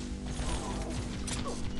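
A weapon reloads in Pixel Gun 3D with a short burst of clicking, clacking mechanical sounds and a sharp clatter, all packed into under two seconds over dense game background noise.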